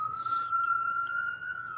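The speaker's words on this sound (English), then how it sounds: "Sirens." A police siren holds a steady, loud tone throughout, with brief bursts of other noise near the start and middle.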